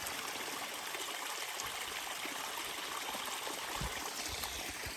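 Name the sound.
flowing stream in ravine on Appalachian Trail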